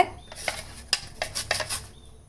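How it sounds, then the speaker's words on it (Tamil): Fresh coconut rubbed lengthwise across a hand grater for coconut laddu, giving a series of close, scratchy rasping strokes in uneven bursts, with faint metal-on-bowl clatter and no talking. "இப்போ இதை இந்த துருவலில் நம்ம துருவி வச்சுக்கலாம் நீங்கள் இது போல் நீட்டு வாக்கில் துருவிக்கோங்க"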